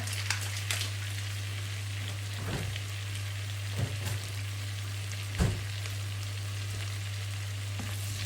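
Butter melting and sizzling in a pan while cooking spicy garlic seafood, a steady soft frying hiss with a few faint clinks and stirs, over a constant low electrical hum.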